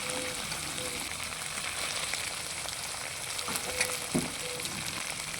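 Chopped tomato frying in a pan with onion, ginger, green chilli and garlic paste, giving a steady close sizzle throughout with a couple of brief stirring knocks near the end.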